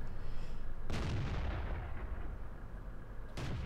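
Heavy tank cannon of an M3 Lee in a World of Tanks battle: two loud booming shots, each a sharp blast followed by a long rumbling decay, the second cut short at the end.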